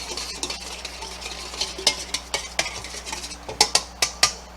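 A spoon stirs a yeast mixture in a bowl, giving a run of light clinks and scrapes against the side that grow sharper and more frequent toward the end, close by and with no talk.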